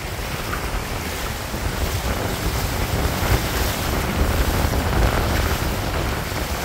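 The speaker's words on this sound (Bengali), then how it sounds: "হাওয়া যা দেখুন, হাওয়ায় ফেলে দেবে এরকম হাওয়া" Strong wind roars across open sea during net fishing, a constant loud rushing with buffeting gusts against the microphone and waves beneath.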